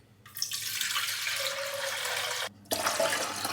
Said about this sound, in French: Je nettoie mon riz et je conserve l'eau du riz.